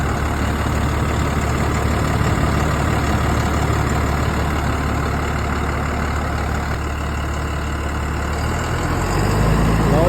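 A 6-cylinder, 180 hp turbocharged 4x4 tractor with an AC cab idles steadily and loudly for the whole stretch, a constant low engine drone without revving.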